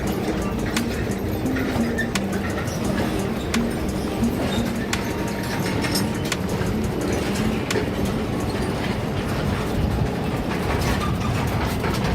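Rail locomotive number 10 at a sugar factory passing by, a busy metallic clatter of wheels and couplings with repeated sharp clicks over a rumbling drive, steady and fairly close throughout.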